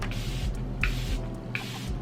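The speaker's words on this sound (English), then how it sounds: "I am gonna spray my face with the Charlotte Tilbury" Three quick spritzes of a fine mist of Charlotte Tilbury setting spray onto a face, evenly spaced, over a low constant background hum.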